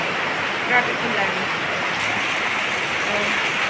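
Steady rain falls at an outdoor home kitchen, a dense, even hiss that runs unbroken throughout with no clear individual drops.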